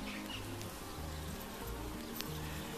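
Honey bees buzz at an open hive while honey frames are checked. The dense, steady droning swarm is close, fills the whole stretch and sounds slightly agitated.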